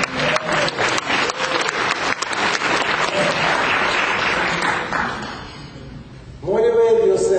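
Audience applause fills a business seminar room in Dallas, dense and steady for about six seconds before tapering off, after which a voice begins speaking.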